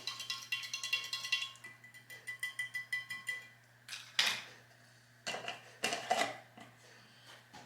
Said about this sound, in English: This will get stirred. Mix that up really well.